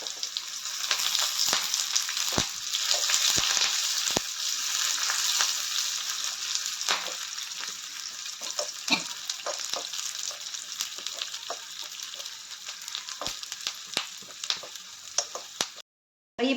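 Shallots, dried red chillies and curry leaves fry in a mustard-seed tempering, giving a loud, steady hiss with scattered sharp crackles and pops close by, and no talk.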